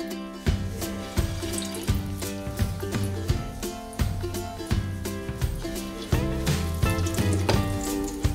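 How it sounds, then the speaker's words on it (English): Akara bean cake batter sizzles and crackles steadily in hot oil on a gas stove, close and continuous, with repeated scraping spoon clicks at a regular pace. "So it's time to fry."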